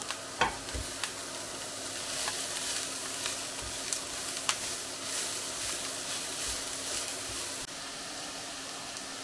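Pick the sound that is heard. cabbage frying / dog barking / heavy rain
cabbage frying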